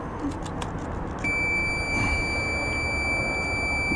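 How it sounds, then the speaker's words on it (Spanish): A steady, high electronic beep from a multimeter's continuity alarm, used while testing a leaking diode, switches on partway through and holds continuously to the end over faint background noise. "Incluso si lo pongo en continuidad me va a sonar la alarma."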